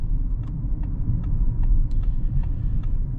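Interior road noise from a 2026 Audi A6 S Line driving on a rough road, a steady deep rumble with faint repeated clicks and rattles over the surface.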